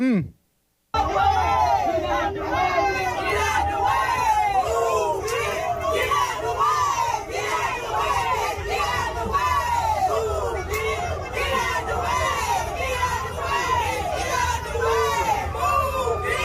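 A large outdoor crowd in Alabama chants the words of a song together in loud rhythmic shouting, a dense mass of overlapping voices sustained throughout after a sharp cut at the start.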